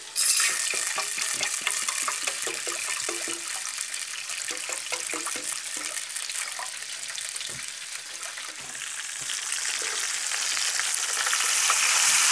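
Food for a fish sayadeya dish fries in a pan of oil, a dense, bright, steady sizzle with crackling pops throughout, close and continuous, swelling slightly louder toward the end.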